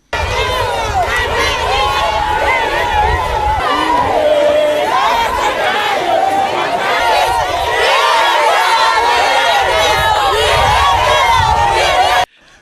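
A jubilant outdoor crowd welcomes the Prime Minister in Cameroon, with dense continuous cheering, chatter and shouting at full loudness throughout, many voices overlapping.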